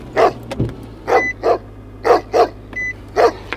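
A dog barks seven times in short, evenly spaced pairs. The barks are moderately loud and close, over a low steady hum.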